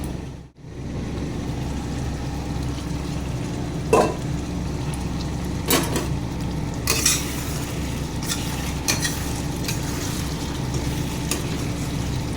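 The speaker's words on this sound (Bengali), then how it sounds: "ভালো করে কষিয়ে নেব বন্ধুরা" Mutton is stirred and sautéed in a pan, sizzling steadily with a few brief scrapes and clinks of a utensil against the pan over the continuous frying hiss.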